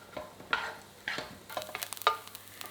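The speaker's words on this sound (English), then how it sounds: "We're going to add in a chopped onion and fry for 5 minutes" Chopped onion frying in a pan over medium heat, with a soft steady sizzle and a few scraping stirs of a utensil at intervals, close and fairly quiet.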